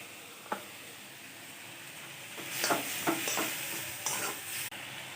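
Onion, capsicum and garlic paste fry in a kadai with a low steady sizzle, while a spatula scrapes and stirs in a short burst of rough strokes, close and clear, with no talking.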